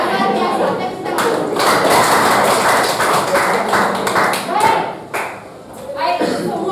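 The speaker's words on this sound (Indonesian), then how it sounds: "Tepuk tangan." A classroom of children claps hands during a guidance lesson, the claps tapping in uneven bursts mixed with children's voices and chatter.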